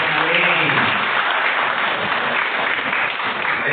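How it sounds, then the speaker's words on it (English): Audience applause at a leaders training event in Dubai, a dense, loud, continuous burst of clapping close to the listener that holds steady from start to finish. "Can we give him a big round of applause?"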